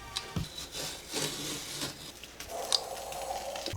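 Dried sealant is peeled off a kitchen cabinet, making close, scratchy rubbing and tearing sounds with short scrapes and a soft snap, steady and continuous without talking.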